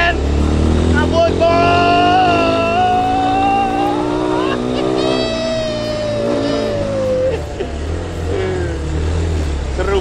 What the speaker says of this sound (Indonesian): Kita cobain bumping ke polisi tidur. Ngebut siap kameramen.